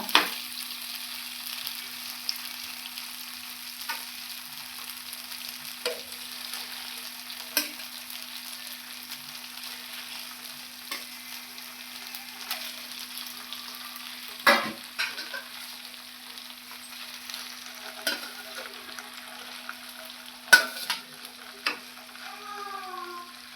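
Mackerel masala fry sizzles steadily in a pan, a constant soft crackle with occasional sharper pops and scrapes from stirring or turning the fish, with no talking.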